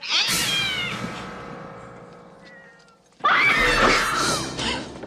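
A cat meows and yowls in a scene from the horror film Sleepwalkers, two loud drawn-out cries with a brief dip between, sounding harsh and close.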